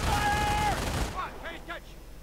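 Sniper and MG42 machine gun fire in a video game, a dense crackling burst of shots at first that drops away into scattered fainter reports, with a voice talking over it.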